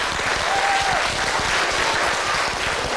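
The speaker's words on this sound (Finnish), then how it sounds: "Annetaan raikuvat aplodit." A TV show audience in Finland applauds steadily and loudly for the full stretch, dense clapping with a faint crowd murmur beneath and no talking.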